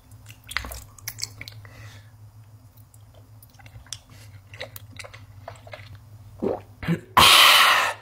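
Chewing and squishing of a giant water jelly, close and wet with small clicks and soft bites over a low hum, ending in a loud crunchy burst.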